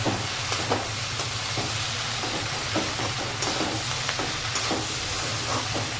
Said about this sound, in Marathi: आता यात हे सगळा मसाला चांगला भाजून घ्यायचा आता हे सगळं भाजून चांगलं घ्यायचं